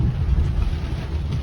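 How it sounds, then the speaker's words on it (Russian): A strong, long-lasting storm with heavy wind buffeting and rain, a steady loud low rumble filling the whole stretch with no voices. "Шторм прям конкретный."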